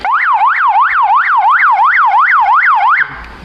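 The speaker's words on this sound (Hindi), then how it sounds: "अरे वैसे बजाओ ना इसको, सायरन तो बजाओ।" Police siren fitted to a Maruti Baleno car wails loud and close in a fast rising-and-falling yelp, about nine even cycles, then cuts off abruptly, leaving faint background noise.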